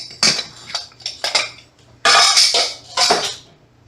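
A spoon scraping and clanking against a bowl while flour mixture is stirred into a zucchini mixture for chocolate zucchini bread, in several separate loud bursts with short pauses between them.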